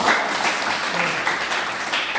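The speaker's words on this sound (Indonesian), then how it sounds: "Terima kasih tepuk tangan untuk" Audience applause in a classroom or lecture setting, a steady wash of clapping filling the whole stretch at moderate level with no clear breaks.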